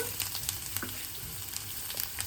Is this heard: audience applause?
no